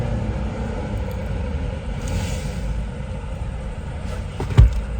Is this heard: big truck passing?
yes